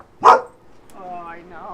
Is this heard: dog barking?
yes